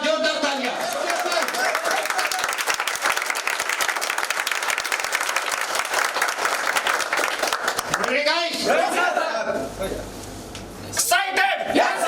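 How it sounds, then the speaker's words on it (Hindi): A crowded audience at a school gathering bursts into loud, continuous applause lasting around eight seconds, followed by a pause and a few voices. "अच्छी जोरदार तालियां"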